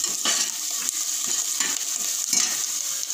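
Garlic and crushed ginger fry in hot oil, a dense continuous sizzle broken by soft scraping stirs every half second or so, close and steady with no talking.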